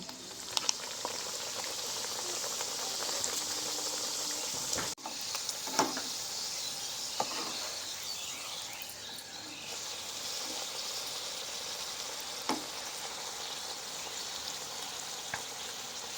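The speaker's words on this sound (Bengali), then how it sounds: "তেল গরম হয়ে গেছে, এবার একটা একটা করে এগুলো ভেজে নেব।" Egg puris fry in hot oil in a wok, giving a steady, dense sizzle and bubbling that runs throughout, with a few sharper pops and spits rising above it.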